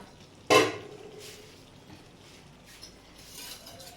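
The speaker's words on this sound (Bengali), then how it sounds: "আমি এবার ঢাকাটা খুলে দিচ্ছি ঢাকাটা আমি খুলে দিলাম" A lid lifted off a cooking pot of watermelon rind curry gives one sharp metallic clank, then faint sizzling and light clinks continue quietly.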